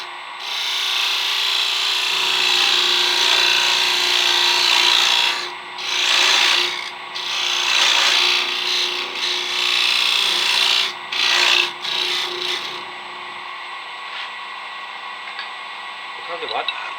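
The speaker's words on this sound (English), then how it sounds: "I'll take this in and bevel it in, give myself an edge to come to in the chuck" A spalted beech hardwood box blank being bevelled on a wood lathe, giving a steady close rasping, scraping cut with brief pauses where the tool lifts off, ending in quieter spinning.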